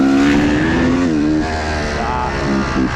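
A failing motorcycle engine strained at high RPM, loud and close with a sustained droning whine whose pitch wavers, dips and rises again in uneven surges.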